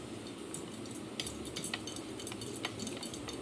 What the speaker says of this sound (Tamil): நல்லா இதை மிக்ஸ் பண்ணிக்கோங்க